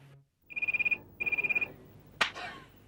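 Indoor telephone bell ringing in two clear bursts of rapid trills, close and fairly loud, followed by a short clunk as the receiver is picked up.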